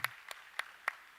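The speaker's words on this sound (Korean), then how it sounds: "박수 한번 격려하겠습니다." A church congregation claps during a Sunday special revival service, with a few sparse, distinct claps spaced roughly a third of a second apart. The sound is faint and thin, with no voices over it.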